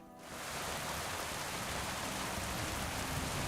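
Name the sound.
heavy rain pouring in video game Kingdom Come Deliverance 2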